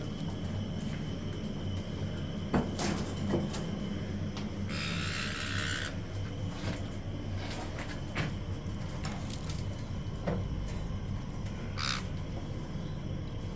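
Caique parrots in their new cage give scattered, raspy squawks and short chirps over a constant noisy background, with one longer harsh call standing out midway.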